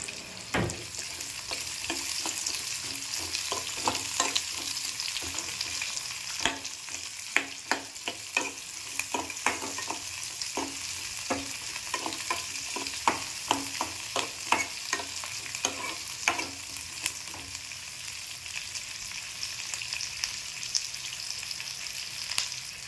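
Onion and tomato fry in hot oil in a pan for jackfruit sambar, a steady sizzle with frequent sharp spoon scrapes and stirring clicks running throughout, close and fairly loud with no talk.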